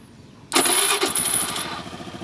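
A Honda carbureted scooter engine cranks and catches with a sharp starter whine, then settles into a rough idle, loud and close.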